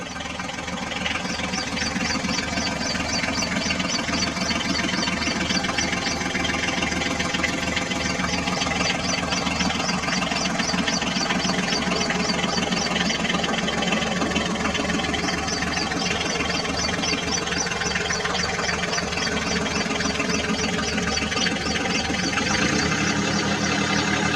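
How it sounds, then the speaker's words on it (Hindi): A loud Ford tractor engine runs continuously, chugging with a rough, steady rumble and a rattling mechanical knock throughout. "हम सबसे पहले फोर्ड ट्रैक्टर को इस कीचड़ से बाहर निकालते हैं"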